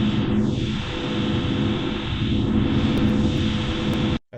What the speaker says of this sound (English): that's how you make a creepy drone sound, just using random samples